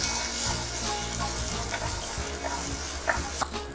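Small onions, shallots, sautéing in a pan for a Kerala onion theeyal, giving a steady close sizzle with occasional stirring scrapes and light clicks throughout.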